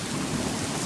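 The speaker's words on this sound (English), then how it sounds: "It's fucking raining sideways." Heavy storm rain blows sideways in a dense, loud, continuous hiss that fills the whole brief moment, with no voices.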